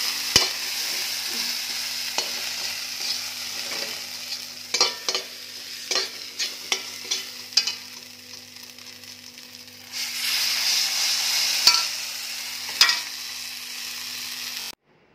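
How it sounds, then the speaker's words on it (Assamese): Spice paste with garam masala and coriander powder frying on a medium flame for a singhi fish and jackfruit seed curry, giving a steady close sizzle broken by repeated scraping stir strokes, with the sizzle swelling louder near the end. "মছলাখিনিৰ লগত পেষ্টখিনি মই ধুনীয়াকৈ ভাজি ল'ম মই মিডিয়াম ফ্লেমত ভাজিছোঁ"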